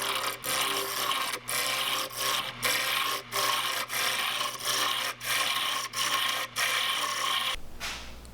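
A lathe turns a wooden crappie fishing bait in a workshop, giving a steady loud rasping scrape of tool on wood that repeats in even, short passes and stops at the end.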